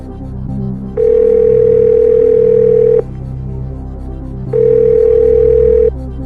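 Telephone tone during a call on a French TV quiz show: two long, loud, steady beeps separated by a gap of near silence, heard alone without any voices.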